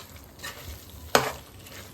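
Chicken pieces for biryani sauté in a pan, with a constant sizzle under two stirring scrapes, the second a loud close clank of the spoon against the vessel, and no speech.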